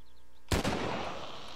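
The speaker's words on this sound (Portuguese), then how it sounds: "sem querer eu atirei" A single sudden gunshot in the video game Walking Dead Survival Instinct, fired by accident after a near-silent moment, with a loud sharp crack that decays into a lingering rumble.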